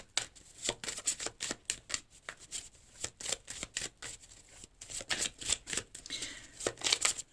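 Tarot cards being shuffled at a French-language card reading, a long run of quick, crisp riffling flicks in irregular bursts, close and fairly quiet, with no talking over it.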